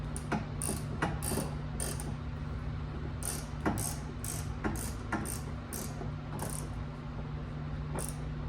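A ratchet tightens a drain plug on a BMW F30 differential, giving a quick series of crisp, close clicking bursts over a steady background hum.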